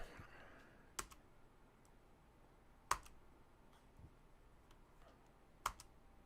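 A few sparse, faint clicks of keys on a computer keyboard in a quiet room, with distinct louder taps spaced a second or two apart and no talking.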